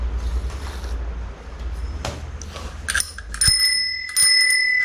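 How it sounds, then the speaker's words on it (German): An old bicycle bell, still working on a restored vintage bike, rings in several bright, metallic bursts toward the end, close and clear over a low rumble and faint mechanical creaks. "dass die noch da ist, die Klingel, das ist wirklich ein Träumchen. Und die funktioniert noch."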